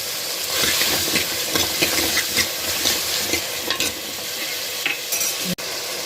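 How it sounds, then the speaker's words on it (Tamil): Tomatoes with a little salt sautéing in a pan for egg curry, a loud continuous close sizzle and hiss with repeated scraping stirs of a spoon throughout, no voices. "தக்காளியெல்லாம் நல்லா வதங்கிடுச்சு"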